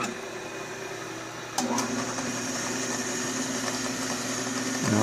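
A Delta Milwaukee DP220 double-head drill press motor runs after oiling, giving a low, steady hum with a faint whine and a slight shift in pitch partway through, close and fairly quiet.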